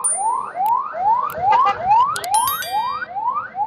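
A loud, close ambulance siren wails in quick rising sweeps, repeating about twice a second with no pause.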